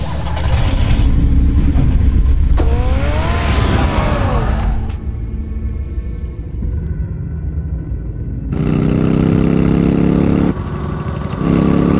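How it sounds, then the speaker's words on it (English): Engine rumble in the Batman Telltale video game as a car revs, pulls away and drives off, loud low roar with shifting tones, then quieter ambience before the rumble returns. "Get the car ready, Alfred."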